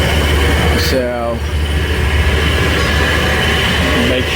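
A little tourist train rolls toward a port, its steady running noise and engine hum filling the clip alongside a brief squeal or horn-like tone near the start, with faint voices underneath.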